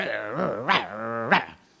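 A voice imitates a growling dog, a rough, snarling vocal growl with two sharper bark-like bursts, close and fairly loud, trailing off at the end.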